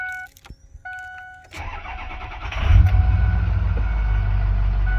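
A 2006 Ford F-250 Super Duty pickup cranks and starts after a few interior chimes and clicks, its engine catching with a loud surge and then settling into a steady, close idle.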